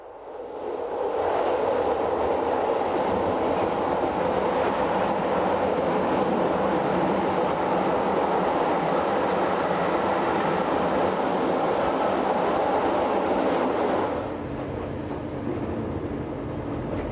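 A Rhaetian Railway train on the Engadine Line in Switzerland runs with a steady loud rumble and rolling wheel noise that swells in, holds for most of the stretch and eases slightly near the end.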